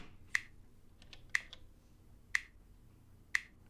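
Clap and snap hits in an electronic remix, four crisp, sharp transients landing at an even one-per-second rhythm, quiet and dry over a faint low bass bed.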